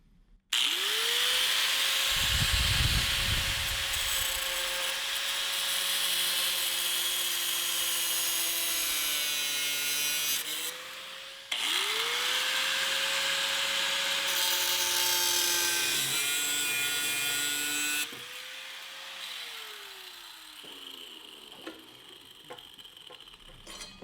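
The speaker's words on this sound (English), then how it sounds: "So there were 3 bolts we couldn't loosen, so gonna have to cut them." A power cutting tool whines loudly as it cuts through seized metal bolts on a 1965 Indy 500 go-kart, its pitch sagging under load and rising again across several long passes.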